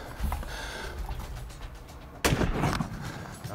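A hunting rifle fired in the Namib desert on an elephant hunt, one sharp loud blast partway through that rings out briefly over a rustling, noisy background.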